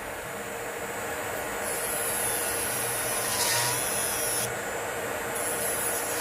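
A Kredioo 35,000 rpm electric nail file grinds off hard gel, giving a steady high-pitched whine with a grinding texture that shifts in pitch as it presses against the nail.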